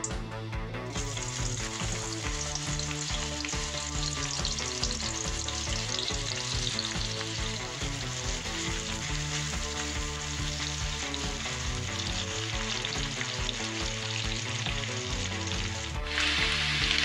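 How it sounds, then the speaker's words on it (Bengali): Chopped onion fries in oil previously used for eggplant and fish, a continuous close sizzle with stirring scrapes, briefly changing near the end, with no voices. "এবার সেই তেলেই আমি দিচ্ছি কুচনো পেঁয়াজ একটা।"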